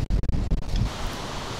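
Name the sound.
strong wind near Chalaadi Glacier, Mestia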